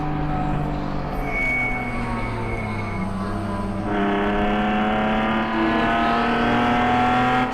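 Race cars roar around the track during a ChampCar endurance race at New England, engines droning loudly with pitch shifts as they accelerate and a louder car surging in midway, steady and continuous without voices.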